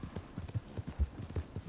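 A horse in the video game Red Dead Redemption 2 clip-clops along at a steady gait, its hoofbeats landing close and distinct in a quick repeating rhythm.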